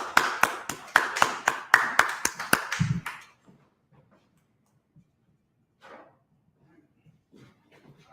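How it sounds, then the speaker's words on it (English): A small class gives Officer Daniel a short burst of rhythmic applause, about a dozen sharp, close claps over three seconds, then near silence broken by faint movement. "let's clap it up for Officer Daniel"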